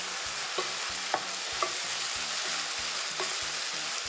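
Chicken and capsicum cooking in a pan for a chicken wrap: a continuous sizzle with a few sharp utensil clicks and scrapes scattered across it, close and alone without talk.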